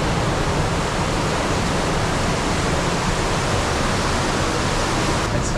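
A dense, steady roar of rushing water fills the space without pause, loud and continuous, a waterfall echoing inside a cave.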